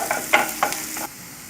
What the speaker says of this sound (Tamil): பூண்டு ஃப்ரை ஆனோன்னே நீங்கள் வெட்டி வச்சுருக்க வெங்காயத்தை போட்டு வதக்கிக்கோங்க